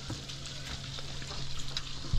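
Fresh-caught fish, freshly fried in the Philippines, gives off a continuous close crackling sizzle with small pops, followed by a brief knock at the end.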